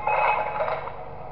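A telephone rings inside the horror video game Five Nights at Thomas's, a steady electronic ringing tone heard close and fairly loud for about a second before tapering slightly.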